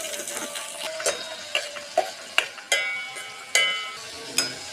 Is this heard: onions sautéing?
yes